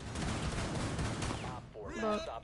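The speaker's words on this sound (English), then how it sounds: "Dude, this guy's using a shotgun." Shotgun blasts in the tactical shooter Rainbow Six Siege, a dense burst of gunfire under ongoing game noise, with a voice cutting in near the end.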